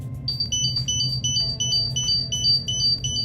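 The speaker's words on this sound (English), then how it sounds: "and an alarm's gonna go off" A confined space gas monitor sounds a low oxygen alarm, a rapid repeating pattern of high electronic beeps in pairs, loud and close over a low background hum.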